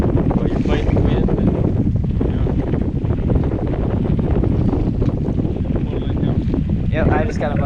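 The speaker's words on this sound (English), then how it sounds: "you're fighting the wind" Strong wind buffets a fishing boat off Turks and Caicos, a loud, constant roaring rush over the microphone, with brief faint voices breaking through near the end.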